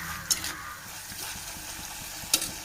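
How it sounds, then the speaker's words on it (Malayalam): Curry leaves sauté in a pan for a fish roast, giving a soft steady sizzle with a couple of sharp spoon taps against the pan. "കുറച്ച് കറിവേപ്പില പിച്ചിക്ക് ഒരു ഇട്ട് നമുക്കിതൊക്കെ ഒന്ന് വഴറ്റിയെടുക്കാം"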